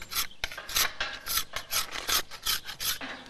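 Repeated rasping strokes scrape and sand a cow's horn as it is readied for a show, about a dozen quick, even, abrasive sweeps close by, with no talking.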